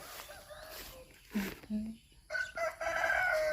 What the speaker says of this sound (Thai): ไก่กับพ่อไก่ด้วย